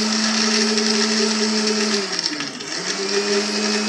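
An electric blender whirs loudly and steadily, mixing an apple banana milkshake with ice cubes. Its motor pitch dips briefly midway, then recovers to a constant drone.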